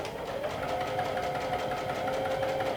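A sewing machine running steadily as it stitches down fabric, a fast even buzzing hum heard close and alone for a few seconds.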